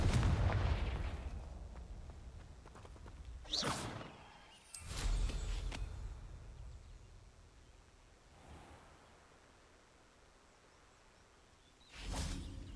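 Spell blasts from the Confringo spell in Hogwarts Legacy burst as sharp whooshing explosions, two or three separate strikes with quieter rumbling gaps between them, no talk over them.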